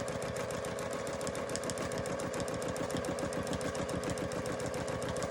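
Sewing machine running steadily for machine quilting, a fast, even mechanical chatter of needle strokes with a low hum, close and continuous without pause.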